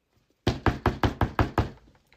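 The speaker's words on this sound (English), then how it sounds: "That's a heavy knock." Seven heavy, evenly spaced knocks on a door, loud and close, in a quick steady rhythm with no talking.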